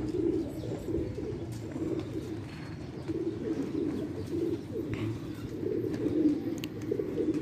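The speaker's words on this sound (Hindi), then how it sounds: "कबूतर वहीं घूम रहे हैं और अभी तक उन्होंने उठाए नहीं, बिठाए हुए हैं।" Kept pigeons coo in a constant low, throaty chorus close by, steady and unbroken, with no voices over it.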